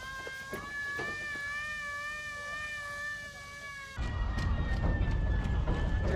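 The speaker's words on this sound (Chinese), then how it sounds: "现在呢我们这个现场响起了这个防空警报" An air-raid siren holds a steady, loud wailing tone over a river at a military pontoon bridge during a Chinese army pontoon-troop drill, then gives way to a louder broad rushing roar.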